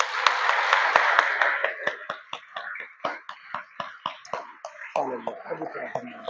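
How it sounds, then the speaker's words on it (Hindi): A church congregation claps loudly for God during a Sunday service: dense sustained applause at first, thinning into a run of distinct rhythmic claps, with voices joining in near the end. "आइए परमेश्वर के लिए जोर से ताली बजाएं।"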